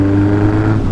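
A Yamaha XS1100 cafe racer motorcycle fitted with a big bore kit and performance head runs in fifth gear, a loud, steady, low engine drone heard close up, alone.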